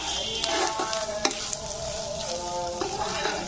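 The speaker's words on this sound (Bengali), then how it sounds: "মশলা দেওয়া শেষ হয়েছে, এবার আমি একটু নাড়াচাড়া করে দিয়ে দিব" Ground coriander, cumin and garam masala are stirred in a sizzling pan for a meat pitha filling, with repeated scraping strokes of a spatula over a steady close frying hiss.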